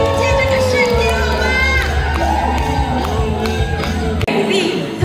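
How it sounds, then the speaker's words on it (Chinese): A festival crowd at the opening of the 2024 Lion Township mango event cheers and screams loudly and continuously, with shouting children and music beneath. "我们再用热情的掌声加尖叫声，一起来迎接这个盛典"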